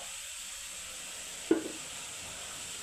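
Banana flower stir-fry with turmeric sizzles steadily in a pan over low flame, with a single soft scrape of a spoon partway through.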